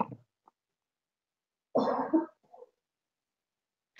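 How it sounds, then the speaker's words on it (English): A few harsh, close coughs in separate bursts: a short one at the start, then a heavier double cough with a faint trailing cough, amid silence. "I had a cough attack."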